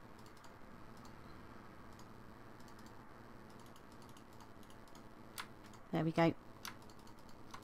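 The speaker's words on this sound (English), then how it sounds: "Let's shift click those out" Computer keyboard and mouse clicks while shift-clicking items out of an inventory in Sky Factory 3. Faint, quiet background clicking runs throughout, with a short, louder cluster of clicks near the end and a brief spoken phrase just before.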